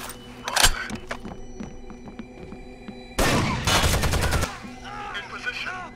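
Gunfire in Rainbow Six Vegas 2: a single loud shot, then a dense automatic burst lasting over a second, followed by scattered echoing reports and clatter, with faint radio-style voices in between.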